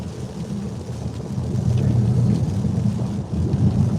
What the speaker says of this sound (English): Driving down Colonial, getting a little bit of rain.